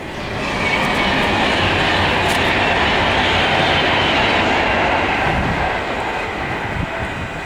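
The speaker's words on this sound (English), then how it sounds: "over the noise of the train" A train passes close by, a loud steady rumble and rush of rail noise building quickly and holding for several seconds before easing slightly, with no voices over it.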